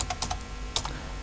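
A quick run of crisp keystrokes on a computer keyboard as a command is typed, several close taps in two short bursts with a brief pause between, close and fairly quiet.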